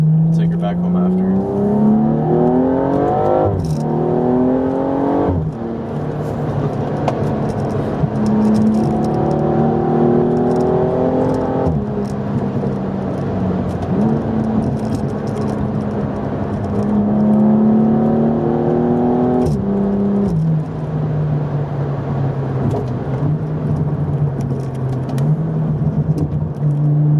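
A BMW with a ZF8 automatic gearbox and a gutted interior accelerates hard in Sport Plus, the engine note climbing loudly and dropping sharply at each of several upshifts, heard from inside the cabin.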